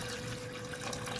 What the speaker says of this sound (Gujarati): ચોખાને 2 થી 3 વખત પાણી વડે સરસ રીતે ધોઈ લઈશું।